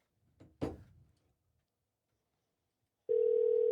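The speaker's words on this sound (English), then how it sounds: "we got Ellen DeGeneres on the phone" A telephone call goes out: a dull thump and faint handling noise, a silent gap, then a loud, steady ringing tone starts and holds to the end.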